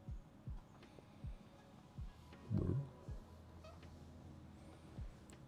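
A house cat moves behind a computer screen, making a brief low murmur midway through over faint, evenly spaced soft thumps in a quiet room.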